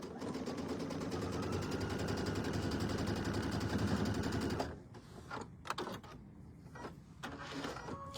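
Sewing machine stitching fabric pieces right sides together along a diagonal, a steady rapid mechanical whir for several seconds that stops abruptly, followed by quieter handling clicks and rustles.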